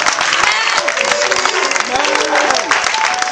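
Loud sustained clapping from a church congregation at a night vigil, with cheering voices and shouts rising through the applause.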